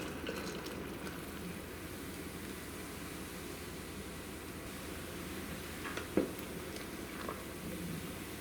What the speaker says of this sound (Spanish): aquí en esta olla, con agua ya hirviendo, aquí tengo solo de 3 litros de agua